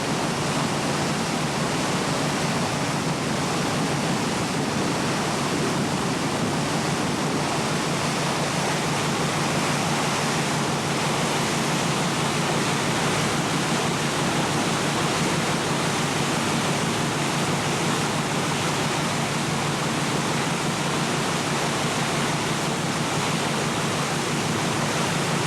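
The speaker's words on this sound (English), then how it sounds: "They just come cascading off the rock." Waterfalls in Norway cascade off rock in a steady, full roar of rushing water that holds at an even level throughout, with no voices.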